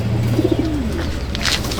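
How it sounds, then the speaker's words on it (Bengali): Young Madrasi pigeons in a loft giving a short soft coo, a few low pulsed notes sliding down, close by over a steady low hum. "সব বাচ্চা পায়রা, কাঁচা পায়রা।"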